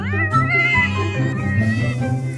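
Several cats meow insistently at a rescue shelter for dogs and cats, overlapping high cries close by with a busy, crowded feel throughout.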